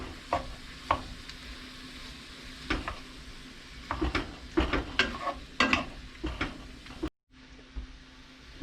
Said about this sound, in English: So we're going to saute our ground beef.